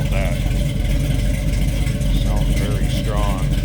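1970 Chevrolet Nova SS Yenko tribute with Flowmaster exhaust revving, a deep, throaty, loud rumble close by with repeated rising revs over a few seconds.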